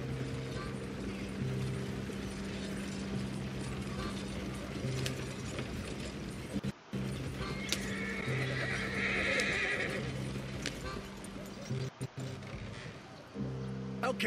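A horse in a video game neighs and its hooves clip-clop under a steady music bed and game sounds, with brief dropouts partway through.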